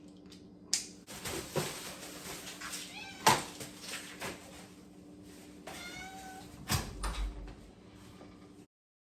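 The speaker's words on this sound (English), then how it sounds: "are you happy, cat?" A domestic cat meows several times indoors at home, short rising calls scattered across a quiet room, with a sliding door and light clicks nearby and a person speaking softly.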